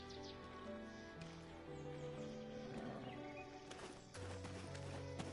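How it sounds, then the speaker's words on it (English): Pack donkey in the Black Desert video game, hooves clip-clopping steadily with a short bray, heard fairly clearly over game music with no talking. "A nice little donkey."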